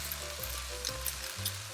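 Chicken, garlic and pepper sizzle steadily in a hot frying pan, a broad crackling hiss with a few low tonal hums underneath.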